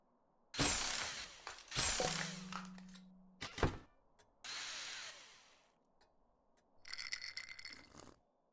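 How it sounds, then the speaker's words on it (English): Several loud bursts of power drilling and grinding into a wall in a 2D horror video game, separated by short silences, with a low motor hum under some bursts and sharp thunks between them. "I'm gonna drill a hole in the wall."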